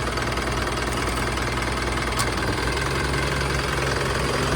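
An older Japanese-import Isuzu NMR130 truck diesel engine idles steadily nearby, a continuous loud rumble with a faint knocking texture and no talking.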